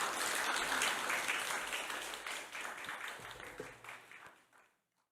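An audience in a church hall applauds after a professor's special lecture, the clapping dense and lively at first, then thinning and fading out into silence.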